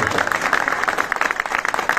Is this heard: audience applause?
yes